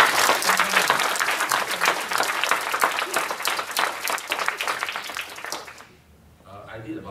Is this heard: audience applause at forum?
yes